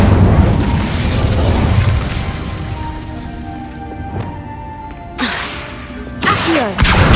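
Incendio fire spell blast in a Harry Potter video game, a loud whooshing boom that fades into a rumbling tail, followed by two more sudden bursts near the end.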